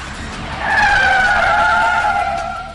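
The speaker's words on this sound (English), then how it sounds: "we also used the racetrack for doing a braking test, again also under dry conditions" A car braking hard on a dry racetrack during a tire test, its tires letting out a loud, sustained squealing skid that swells and then fades over a few seconds.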